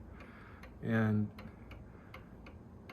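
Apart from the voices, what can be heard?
1930s Sessions mantel clock ticking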